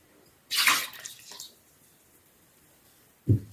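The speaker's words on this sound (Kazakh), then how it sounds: "Жылы сүтімізді құямыз." Warm milk pours into seasoned mashed potato topped with butter: a short splashy liquid pour, a brief trickle after it, then a faint soft plop near the end, close and quiet.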